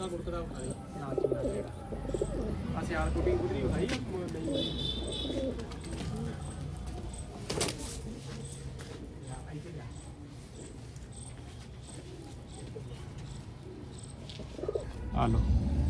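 Pigeons coo in repeated low, throaty phrases close by, with someone talking intermittently over them and faint background clatter.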